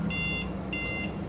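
Alarm buzzer on a Honda CRF 150 motorcycle sounding with the turn signal: two short, shrill electronic beeps separated by a brief gap, close and clear over a low steady background hum.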